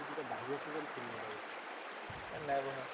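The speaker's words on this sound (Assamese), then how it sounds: "এই ইমান ধুনীয়া পানী বৈ আছে" River water flowing in a steady, faint wash in the open, with people talking over it.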